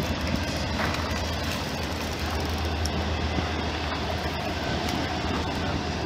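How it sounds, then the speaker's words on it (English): Two trains rolling past in the background near Sandusky Bay, a steady low rumble and clatter of rail cars that holds evenly throughout, moderately distant, with no talk over it. "two trains in the background going by him."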